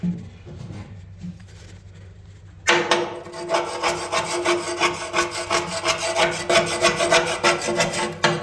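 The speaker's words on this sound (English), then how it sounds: "So that's just the cold chisel." A cold chisel scraping rust off corroded metal on a boat, a sudden start of harsh, rhythmic rasping strokes that continue loud and close after a quiet lead-in.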